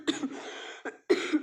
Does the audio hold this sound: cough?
yes